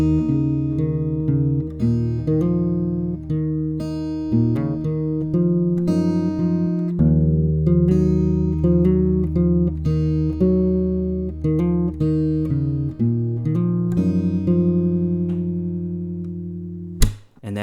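Fingerstyle acoustic guitar plays the intro of Hozier's NFWMB: steady plucked notes over sustained low bass, ringing chords repeating in a calm pattern, close and alone, ending with a sharp knock.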